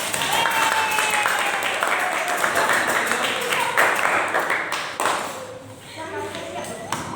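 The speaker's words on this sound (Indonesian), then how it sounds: "kami tepuk tangan untuk kelompok 10" Classroom applause for a student group in an Indonesian teacher-training session, a steady wash of clapping that thins toward the end, with a voice speaking faintly over it.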